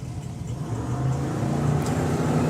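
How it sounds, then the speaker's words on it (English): Street-legal drag racing cars launch at Santa Pod, giving a sustained engine roar that builds in volume and stays somewhat distant, with no talking. "Joe Baxter with a huge hole shot. One of them sounds like he's going away at the top end"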